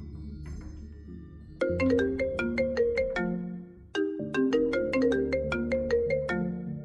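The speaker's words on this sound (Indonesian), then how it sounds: "Ada panggilan masuk." A mobile phone rings with an incoming call, playing a bright repeating melodic ringtone in two loud phrases, with a brief pause between them and no voices over it.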